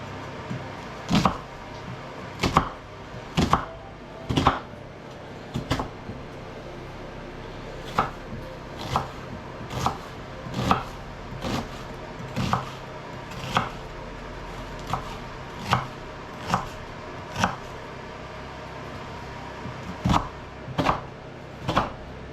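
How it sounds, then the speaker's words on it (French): A knife chops an onion on a cutting board for Basque-style chicken, with about twenty crisp, evenly spaced chops at a steady pace, close up, and no voices. "On va découper l'oignon."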